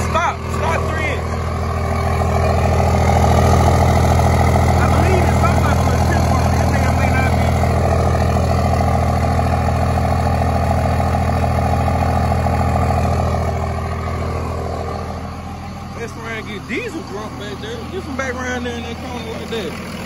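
Second-generation 24-valve Dodge Cummins diesel with a 3-inch exhaust idles steadily, a loud low rumble running throughout, easing slightly toward the end as a voice talks over it.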